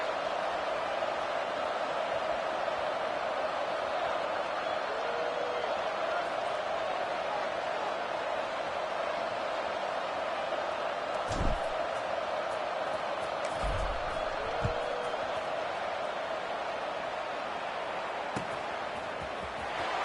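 A stadium crowd at a college football game between Georgia and Texas Tech keeps up a steady, broad roar throughout, with a few brief thumps and knocks rising above the even crowd noise.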